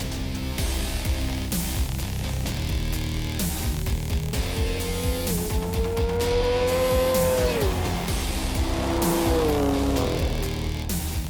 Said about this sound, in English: it's time for a good old-fashioned drag race